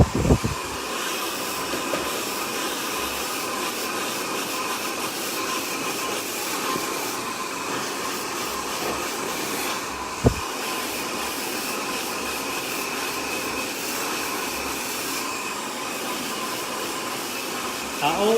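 Hair dryer with a nozzle blowing hot air onto short pixie-cut hair, a continuous loud rushing hiss with a brief click partway through and the start and end slightly disturbed.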